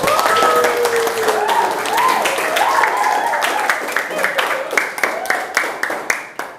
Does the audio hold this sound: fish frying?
no